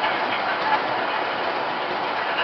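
Model NYC subway trains, R40 cars running as the F train on a home layout, give a steady close whirring rumble with faint rail clatter, continuous and even throughout.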